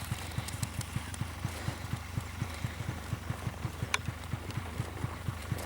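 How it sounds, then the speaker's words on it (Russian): A wounded horse's hooves clop at a steady walking rhythm, a regular series of soft, dull thuds against a quiet background. "Раненая лошадь."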